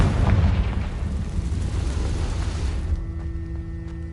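A Confringo fire spell bursts in Hogwarts Legacy with a loud, rumbling explosion that holds for a few seconds, then cuts to a quieter tail with a faint steady hum.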